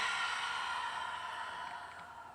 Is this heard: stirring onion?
no